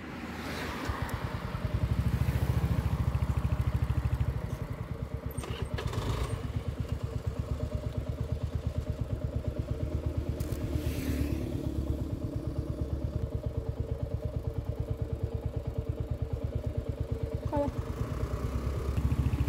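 Royal Enfield Hunter 350 motorcycle engine running steadily on a short morning ride, a close, continuous low thumping drone with a louder stretch early on and occasional wind rush.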